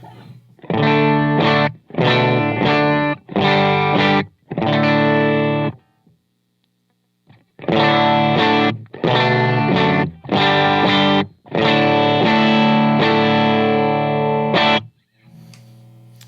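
Electric guitar through a compressor pedal playing two short phrases of strummed chords with a pause between, sounding even and compressed.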